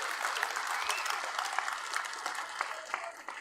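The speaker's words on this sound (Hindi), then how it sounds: "यहां पहुंचने पर जोरदार तालियों से स्वागत" A crowd at a Haryana political rally applauds, a dense and steady burst of many hands clapping throughout, moderately loud and slightly distant.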